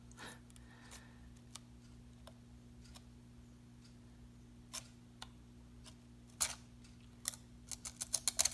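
Scissors trimming Tyvek on cuckoo clock bellows: quiet, sparse single snips at first, then quicker, louder clusters of sharp cuts near the end over a faint steady hum, close and with no talking.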